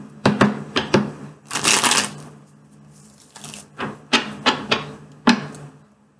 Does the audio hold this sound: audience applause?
no